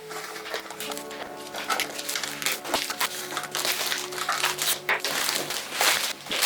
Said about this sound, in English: It's got all this packaging around it, so I need to remove this.